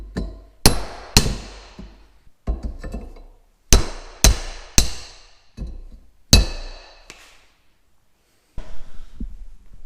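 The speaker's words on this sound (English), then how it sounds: "finish it off with a hammer and I think I'm using like a masonry chisel." Sharp metallic hammer blows on a masonry chisel against metal while making electric fence corner posts, struck in small clusters of two or three with ringing decay and pauses between.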